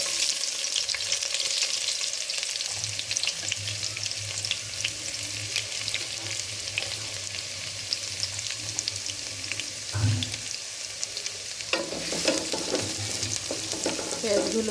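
Chopped onions fry in a little over two tablespoons of hot oil in a pan, giving a steady, close crackling sizzle that runs the whole time, with a few stirring clatters and a louder burst of sizzle near the end.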